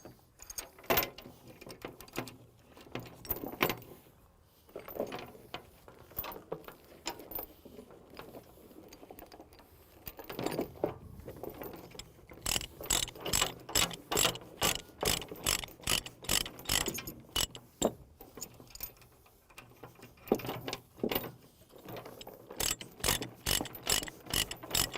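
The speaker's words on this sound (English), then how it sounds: "Binder chains are designed to latch like that." A binder chain ratchets while securing a mini excavator for transport, with bursts of rapid metallic clicks in rhythmic runs, close and clear, separated by short pauses and handling clanks.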